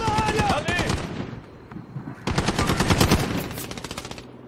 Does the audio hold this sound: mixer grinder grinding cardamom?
no